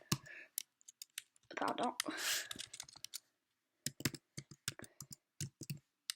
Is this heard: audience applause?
no